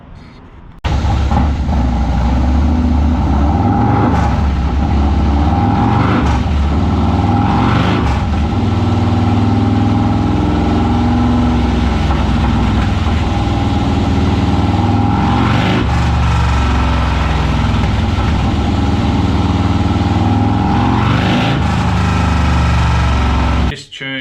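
A 143ci Harley-Davidson Lowrider S V-twin running rich idles loudly and close, its lumpy rumble broken by several sharp throttle blips that rise and fall over about twenty seconds, with no voices.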